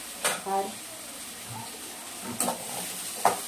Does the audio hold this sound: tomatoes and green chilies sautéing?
yes